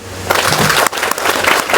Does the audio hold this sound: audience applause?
yes